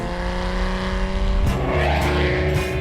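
Loud engine of a Ferrari F12 TDF sports car accelerating hard, the revs climbing, a quick gear change into second midway, then pulling strongly again up through the range.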